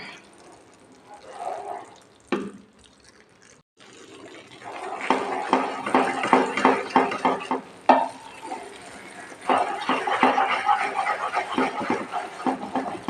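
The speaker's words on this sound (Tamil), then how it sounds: "சூடான நெய் எப்படி சுறுசுறுன்னு வருது பாருங்கள்." Mysore pak batter sizzles in hot ghee in a kadai while a spoon stirs it, giving irregular bursts of frothy crackling and scraping that grow busier and louder toward the end, with no talk over it.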